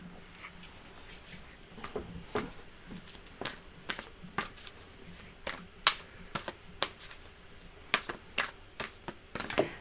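Tarot cards shuffled by hand, a dry papery riffle broken into many quick sharp slaps and flicks, close and fairly quiet, with no talking.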